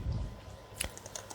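Command typed on a computer keyboard, a few faint, close key taps spread over a moment against quiet background hiss.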